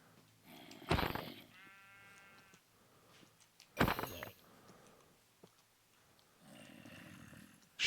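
Sheep bleating in Minecraft, a few blocky wavering bleats spaced apart, with loud bursts of other game noise between them and nobody talking.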